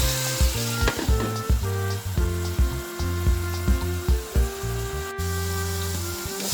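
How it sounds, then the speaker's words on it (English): Onions and tomatoes cooking in a pot for ackee and saltfish, a steady sizzle and bubbling broken by repeated scraping stir strokes and clanks of a utensil against the pot, close by, with no voices. "Just giving it a quick check to see everything is boiling."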